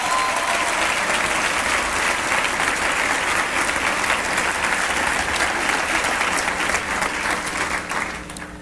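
An audience applauds at a speech, sustained dense clapping that stays loud and even throughout before starting to taper at the very end.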